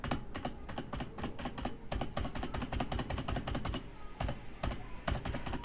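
Keys and the space bar of a Logitech K840 aluminum mechanical keyboard pressed repeatedly, crisp close clicks in quick bursts with short pauses, no talking.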